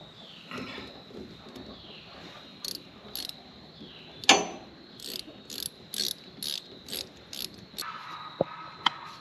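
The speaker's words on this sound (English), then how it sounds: "Now tighten this clamp back up." A clamp being tightened on water totes at an outdoor homestead, heard as a series of short repeated ratcheting clicks in spaced bursts, with one louder sharp clank partway through and faint insect chirping in the background.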